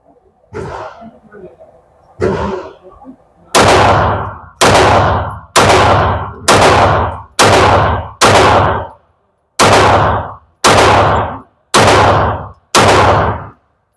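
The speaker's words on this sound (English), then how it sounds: "I'm shooting at the A, the head zone." Pistol shots in competition shooting, fired at a target's head zone: two duller shots, then a steady string of nine loud, sharp reports at roughly one-second intervals, close by, with a short pause before the last three.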